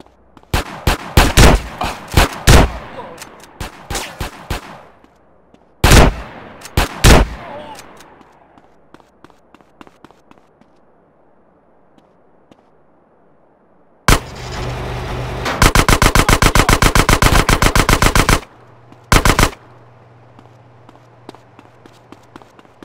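Gunfire in GTA San Andreas during a raid on a military base, with bursts of shots early on, scattered single shots, then a long sustained rapid-fire volley near the end, loud and close.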